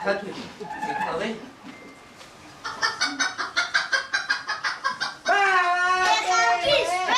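Chickens cluck in a quick rhythmic series of short calls, close and fairly loud, with voices talking before and a drawn-out bird call at the end, in a Georgian stage production.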